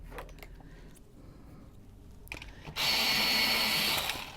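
An electric pencil sharpener or electric eraser used during a colored-pencil drawing starts with a sudden loud, steady motor whir. It runs close for about a second and a half after quiet scratchy room sounds.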